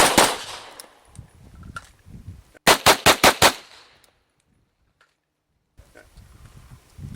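A handgun fires five rapid, evenly spaced shots at a target on a training range, loud and close, with quiet before and after and faint movement sounds around the volley.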